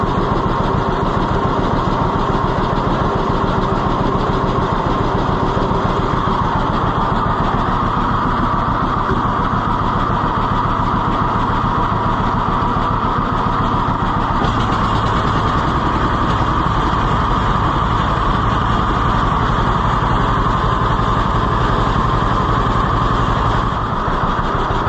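An Oliver 1365 tractor engine idles steadily and loudly close by with its fuel shut off, a continuous low rumble that runs without a break.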